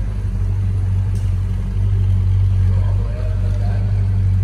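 A 1964.5 Ford Mustang convertible creeps a short distance at low speed, its engine giving a steady, loud low rumble throughout with no pauses.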